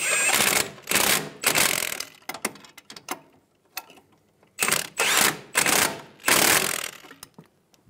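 Ratchet wrench snugging down the nuts on a front right CV axle of a 2007-2011 Toyota Camry, in several loud bursts of rapid clicking separated by short pauses, close by with no talking.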